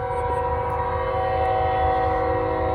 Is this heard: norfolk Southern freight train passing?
yes